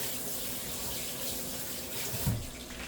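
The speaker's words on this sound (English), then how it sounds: "And I'm going to wash my hands." Water runs steadily from a kitchen tap while hands are washed, a constant close splashing hiss with a brief louder gush near the end and no talking.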